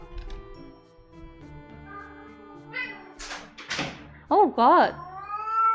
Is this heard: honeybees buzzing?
no